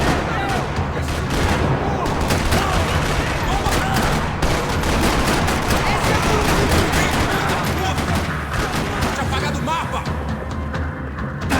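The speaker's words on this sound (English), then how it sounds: "Another parking lot rattling with gunfire." Sustained gunfire rattles through a parking lot shootout in the video game Max Payne 3, rapid shots and bursts overlapping loudly and continuously without a break.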